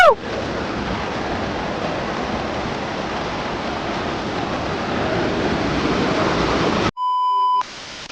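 Waterfall swollen by heavy monsoon rain near Pune, a dense, constant roar of rushing water, loud and close, with no voices, ending abruptly in a brief tonal electronic sound.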